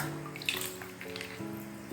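Water runs and splashes as a green gram and milk face pack is rinsed off the face. The running and dripping is soft and fairly continuous, with a few brighter splashes and no talking.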